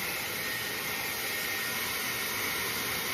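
A Dyson hair dryer blows steadily at close range, a loud, even rushing hiss with a faint high whine that holds without change throughout.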